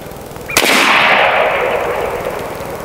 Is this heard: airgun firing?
yes